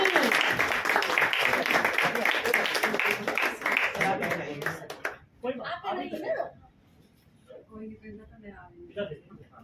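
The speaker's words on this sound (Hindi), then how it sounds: "तालियों से जोरदार स्वागत होना चाहिए" Crowd applause welcoming a poet at a Delhi Hindi kavi sammelan, a burst of clapping for about four seconds that breaks off, followed by talking over a quieter room.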